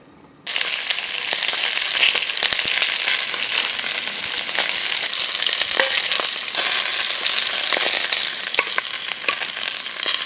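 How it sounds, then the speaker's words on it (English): Beef short ribs sear in smoking-hot oil in a pot, a loud, steady sizzle and crackle that starts abruptly and holds without a break, with no talking. "we'll sear the short ribs"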